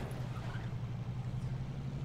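A car in State of Decay drives along with a steady, low engine drone and road rumble, unbroken and fairly close, with no talking.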